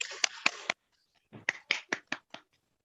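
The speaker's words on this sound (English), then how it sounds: "Please give warm applause to Dr. Awala." Sparse clapping from a few people on a webinar, about eight sharp separate claps in two short bursts with a silent gap between, thin and fairly quiet.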